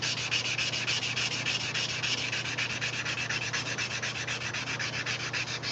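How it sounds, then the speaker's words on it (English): A knife blade is sanded by hand with 220 grit sandpaper at a forge, giving a close, steady, fast back-and-forth rasping that runs without a break. "So I'm on 220 grit right now."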